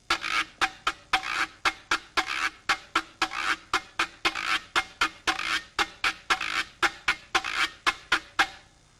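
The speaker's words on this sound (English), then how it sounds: "the sound of the güiro is very dry. I'm going to play it for you right now." A güiro scraped in a steady, dry rhythm, with rasping strokes repeating evenly about twice per second, close and clear with no talk.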